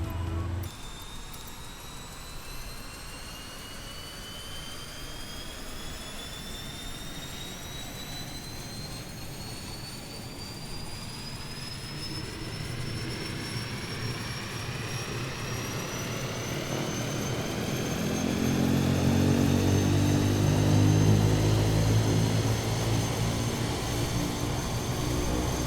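Engine start of a Kodiak 100 turboprop in the flight simulator MSFS 2020: a rising turbine whine climbs steadily in pitch, then a deep rumbling roar builds and grows louder as the engine lights and spools up, no talking.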